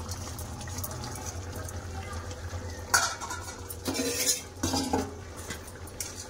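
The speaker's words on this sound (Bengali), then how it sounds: "বন্ধুরা মাছের ঝাল খুব ভালো করে ফুটে গেছে দেখুন।" Bengali fish curry (macher jhal) cooked with mustard bubbles steadily in a pan, with a low simmering bed under a few metallic clinks and scrapes of utensils against the cookware.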